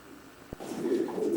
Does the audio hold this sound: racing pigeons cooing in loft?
yes